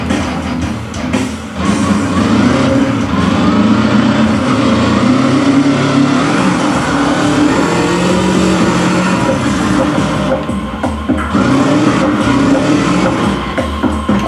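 A motorbike engine in the video game Trials HD drones and revs steadily at close range, a loud sustained motor sound with slight rises and dips and a brief lull near the end.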